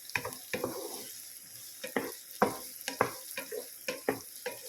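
Onions sauté in a pan with a soft sizzle under repeated scraping stirs of a utensil, near and fairly quiet, coming in irregular bursts.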